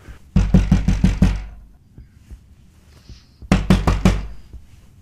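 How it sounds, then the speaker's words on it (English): Heavy pounding on a door comes in two loud, close bursts of about five rapid thuds each, separated by a quiet gap. "imagine somebody banging your door like that"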